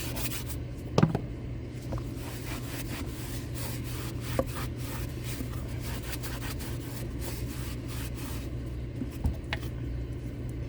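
A hard bristle brush scrubs unfinished wood in steady back-and-forth rubbing strokes, close and moderately quiet, with a couple of sharper knocks along the way.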